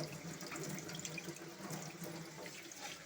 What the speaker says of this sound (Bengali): বাঁধাকপিকে ভালো মতো ধুয়ে নিচ্ছে কাটার জন্য যাতে এইটা ভিতর ময়লা থাকে চলে যাবে